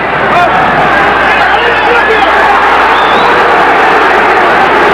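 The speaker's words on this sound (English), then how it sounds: "Now the crowd is really getting on" Large amateur boxing arena crowd at a 1980 USA versus Cuba bout jeering a Cuban boxer, Toledo; dense, loud, continuous roar of voices and catcalls filling the hall without pause.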